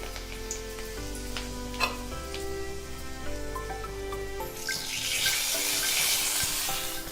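Mustard seeds and cut dried red chillies hit hot oil. A low steady hum gives way halfway through to a loud, bright, crackling sizzle that holds to the end.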